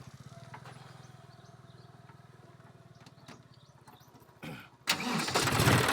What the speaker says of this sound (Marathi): आपण ट्रॅक्टर चालू केलेले आहोत।